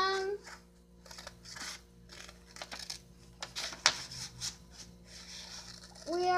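Scissors cut out a paper drawing, quiet crisp snips and paper rustles close by, with children's voices at the start and end.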